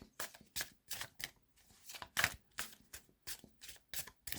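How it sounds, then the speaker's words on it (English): Rapid riffle shuffling of cards, about a dozen quick bursts in a steady rhythm, close and crisp with short pauses between. "doing a significant amount of shuffling."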